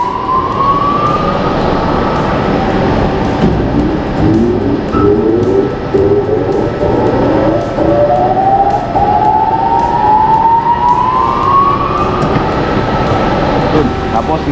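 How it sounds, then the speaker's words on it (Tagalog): A factory machine engine starts up for a morning shift and warms up, a loud steady mechanical drone with a whine that climbs gradually in pitch over several seconds. "Start lang natin yung makina."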